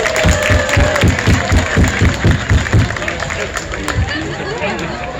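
A crowd at an outdoor pig race applauds and chatters, with rhythmic loud claps at first, then thinning into a murmur of voices.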